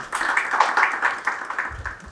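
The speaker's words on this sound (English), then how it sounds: "So please a very big round of applause for him." Applause from an audience honoring a UPSC civil services topper, a short burst of scattered clapping that rises quickly and fades within a couple of seconds.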